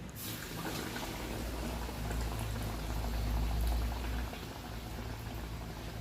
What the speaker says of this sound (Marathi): ब्रेडचे पीस चण्याच्या पिठामध्ये टाकून भिजवून घेणे आणि ते तेलात सोडावे